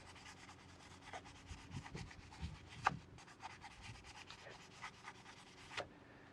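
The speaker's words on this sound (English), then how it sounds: "Just because of that shape you get that really aggressive scrubbing and the bristles aren't fanning out" A pointed soft-tip detailing brush scrubs grime off a car wheel, giving a close, quiet run of quick bristle rubbing strokes with sharper scrapes now and then.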